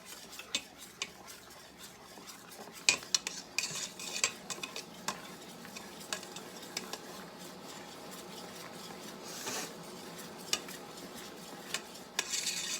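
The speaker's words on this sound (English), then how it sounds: "We need to stir it for 60 seconds." A spoon stirring a boiling homestead mixture in a pot, with repeated scraping and clinking against the sides over a soft bubbling hiss, steady and close throughout.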